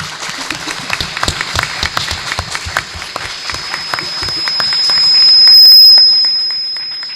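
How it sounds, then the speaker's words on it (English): Applause from the audience at a round-table on the Spanish space industry, steady scattered clapping at moderate distance, joined later by a rising steady tone. "thank you for your applause"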